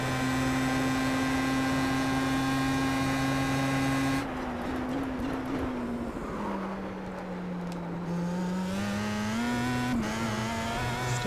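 A Star Mazda race car engine in iRacing at Phillip Island drones loudly and continuously, dropping in pitch with a short-shifted gear change, then climbing again as the car accelerates.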